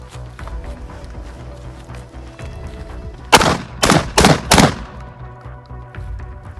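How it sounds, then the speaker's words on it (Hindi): A shotgun fires four rounds at separate targets: four loud, sharp blasts in quick uneven succession, the first followed by a short gap, the rest closer together, over low outdoor background noise. "चार राउंड्स हमने 4 डिफरेंट टारगेट्स पे एंगेज किए"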